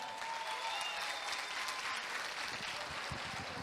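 Applause from the audience at a church youth congress fills the hall in a dense, steady wash of clapping from many hands that holds at an even level throughout, with no clear voices above it.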